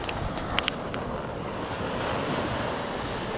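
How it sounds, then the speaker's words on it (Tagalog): Steady roar of strong ocean surf washing in on a beach, broadband and continuous, with a few faint brief clicks near the start and no talking. "May lakas ng alon."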